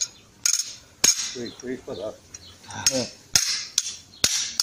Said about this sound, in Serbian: To znači da se s ovim čekićem radilo i radilo.